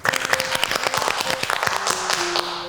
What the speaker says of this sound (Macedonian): И молам аплауз.